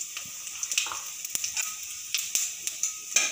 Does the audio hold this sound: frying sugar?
yes